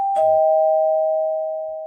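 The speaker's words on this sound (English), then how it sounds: "There's the doorbell. That is a doorbell." A doorbell chimes once inside a room, a bright struck tone followed by a clear sustained ring that fades slowly over nearly two seconds, loud and close with nothing else heard.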